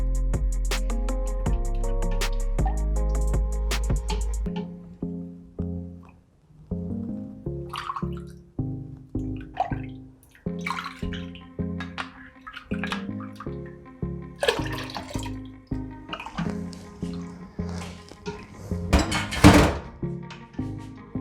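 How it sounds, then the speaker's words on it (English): Milk for homemade yogurt is stirred in a pot, giving repeated close liquid swishes and hollow knocks of the spoon against the vessel in an uneven rhythm, with a louder clatter near the end and no talk. "Now you have to add this, and you have to stir the milk."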